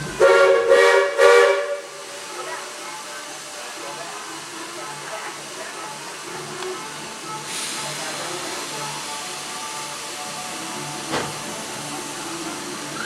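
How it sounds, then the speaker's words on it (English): A Magic Kingdom steam locomotive at Fantasyland Station blows out its boiler. A brief tonal whistle-like blast opens, then a long steady hiss of escaping steam and water runs on, swelling midway, with faint voices nearby. "they do that blowout up here at Fantasyland Station to remove that steam and water"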